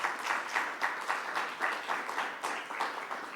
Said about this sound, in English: So let's give her a round of applause as well.